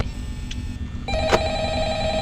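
A phone rings in the Five Nights at Freddy's video game, a bright electronic trill that starts partway through and carries on steadily, loud and close, over low background hum.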